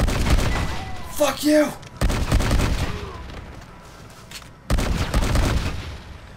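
Gunfire in the video game Red Dead Redemption comes in rapid, clustered bursts that break off and start again, mixed with game sound effects, while a player talks and swears over it.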